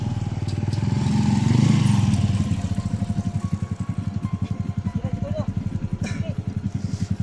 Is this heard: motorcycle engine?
yes